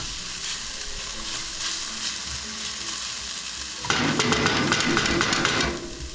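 Garlic fries in a pan with a steady, close sizzle that swells louder midway as it is stirred, then eases slightly near the end.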